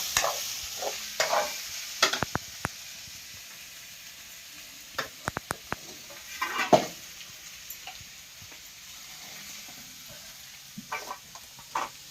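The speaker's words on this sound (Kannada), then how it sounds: "ನೋಡ್ರಿ ಈ ತರ ಕಲರ್ ಬರ್ತಂಕ ನಾವು ಫ್ರೈ ಮಾಡ್ಕೋಬೇಕ್ರಿ" Onions frying in a pan in a village kitchen, a faint steady sizzle with scattered sharp ticks and clacks of a utensil stirring and scraping, the scrapes clustered in short bursts.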